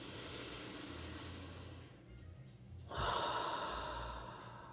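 A person takes a slow, deep breath: a soft, quiet exhale followed by a louder, airy inhale drawn in close to the microphone, with no words.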